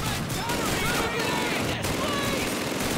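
Sustained machine gun fire in Call of Duty 2, a dense unbroken roar of rapid shots and battle noise filling the whole stretch at high volume, with a voice talking over it.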